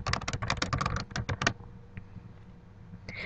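Rapid typing on a computer keyboard, a close burst of crisp key clicks for about a second and a half, then quiet with a faint tap or two.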